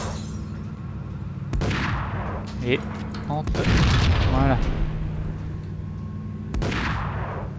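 Sawed-off shotgun blasts in the Max Payne video game, three or four loud booming shots spaced a second or two apart, with someone talking between them.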